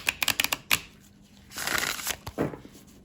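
Tarot cards being shuffled by hand, a quick run of crisp riffling taps followed by a longer, softer swishing shuffle, close and quiet with no talking.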